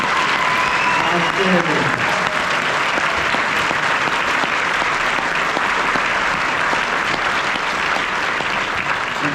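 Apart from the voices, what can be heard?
audience applause for honor band performances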